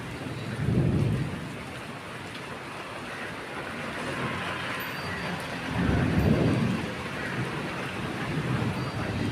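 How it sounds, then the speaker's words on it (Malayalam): Steady heavy rain pours down with a broad wash of noise, and deep thunder rumbles twice, once near the start and again midway. "ഓ ഭയങ്കര മഴ"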